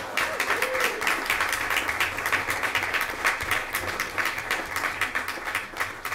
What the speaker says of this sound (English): Come on up and give him a round of applause.